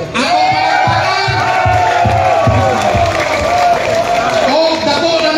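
An audience at a religious debate forum cheers and applauds loudly and close by, with a continuous crowd roar, shouts and rhythmic clapping lasting the whole time.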